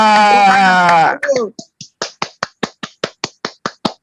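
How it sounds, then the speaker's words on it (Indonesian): Roughly a dozen crisp, evenly spaced hand claps from a single nearby person applauding Bang Juma, following a short stretch of talk. "kita beri tepuk tangan dulu kepada Bang Juma"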